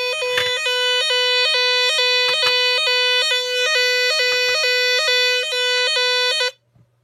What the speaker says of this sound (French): Elle sonne d'une manière et puis après d'une autre.